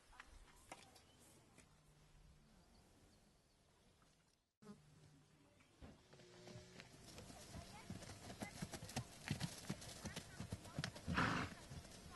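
Horses moving about outdoors, with scattered hoof clops that grow busier and louder toward the end, while insects buzz and a horse gives a short whinny over a faint background.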